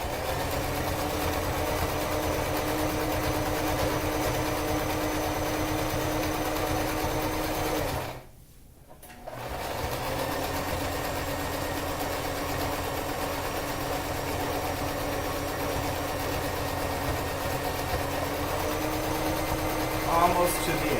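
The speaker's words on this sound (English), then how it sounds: "So we're starting out by sewing the handle first." An electric sewing machine stitches a bag's handle strap, a loud steady whirring drone that runs close and continuous, breaks off for about a second midway, then resumes at the same even pace.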